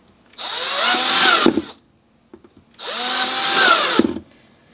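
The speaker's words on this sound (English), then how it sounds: "I really like drilling holes." A power drill whirs up twice drilling holes for a bokashi composter, each burst lasting about a second and winding down, with a short pause and faint clicks between them.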